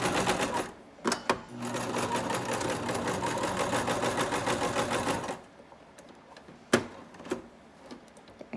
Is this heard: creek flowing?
no